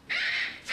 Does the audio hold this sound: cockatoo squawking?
yes